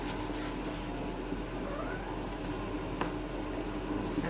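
Household cats meow faintly a few times in a kitchen, under steady background hum and small clatter of soup preparation, with no clear talk.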